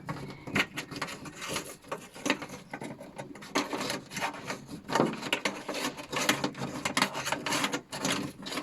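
Wires are pushed through a hole in the body of a ZX car, producing close, irregular rubbing and scraping bursts of wire and plastic against metal.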